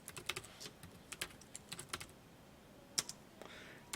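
Typing on a computer keyboard, quiet and close, in uneven bursts of crisp keystrokes with short pauses between words.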